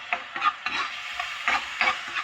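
Soft tomatoes are mashed and stirred in a cooking pan for mung bean stew, with a series of irregular scraping and squishing strokes over a faint sizzle. No one speaks.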